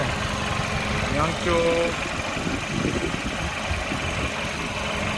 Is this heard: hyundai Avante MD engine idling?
yes